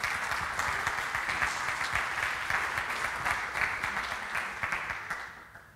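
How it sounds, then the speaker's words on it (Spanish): A conference audience applauds to welcome a speaker for the last talk of the day, a dense, even wash of clapping that holds steady for about five seconds before tapering off at the end. "Bienvenida y un aplauso."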